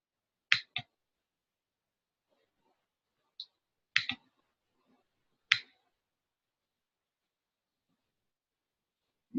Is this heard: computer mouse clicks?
yes